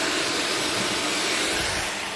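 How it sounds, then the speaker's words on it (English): A vacuum cleaner used as a bee vacuum runs steadily with a loud, broadband whooshing hiss, constant and close throughout, no voices. "the next noise you'll hear will be the vacuum cleaner starting up."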